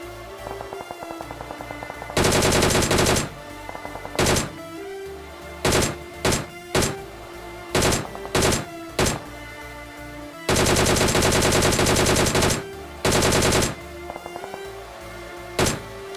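Bursts of automatic gunfire crack out in a BGMI squad fight, with long sustained volleys and short clipped bursts in an irregular rhythm, loud and close over a steady game background.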